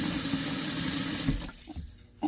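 Tap water runs steadily into a pan in a kitchen while cooking, a loud continuous rush that cuts off partway through, followed by a few faint clinks and a final splash.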